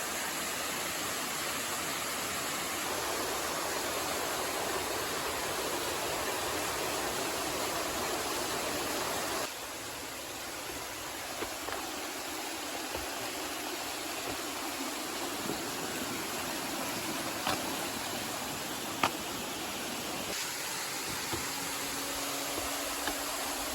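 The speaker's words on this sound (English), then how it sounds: "There's the waterfall, quicker way down." A waterfall on Mount Moosilauke along the Appalachian Trail, a steady, dense broadband rush of falling water that stays loud and continuous throughout, with a slight drop in intensity partway and occasional faint clicks.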